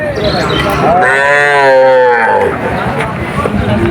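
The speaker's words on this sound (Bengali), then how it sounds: "খুব সুন্দর সুন্দর বাছুর আসে হাটে" A Sahiwal calf gives one long, wavering moo, rising and then trailing off, over the murmur of a crowd at a busy cattle market.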